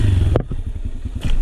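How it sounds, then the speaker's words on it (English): A motorcycle engine gives a short, close throttle blip, a brief rise in revs with some mechanical clatter, as the clutch is released to lift into a wheelie. "we're going to give a little throttle, like that, a little blip of throttle"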